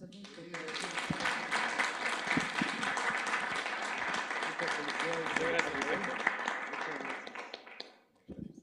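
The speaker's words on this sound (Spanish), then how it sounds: "Aplausos." Sustained applause from a conference audience, steady and dense for about seven seconds before tapering off, with a faint voice near the end.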